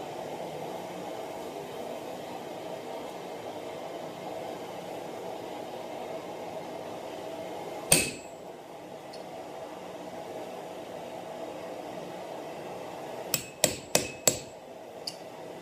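A hammer drives a touch mark stamp into heated steel at a forge, one sharp metallic strike followed later by a quick run of four ringing blows over a steady background hiss.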